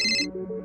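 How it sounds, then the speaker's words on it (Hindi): A telephone ringtone chimes briefly and loudly, a short melodic burst of tones alone with no talk. "उसे उसके अतीत से जुड़ा एक फोन आया"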